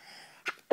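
Two short, sharp bursts from a person sneezing in a quiet room, the second louder than the first.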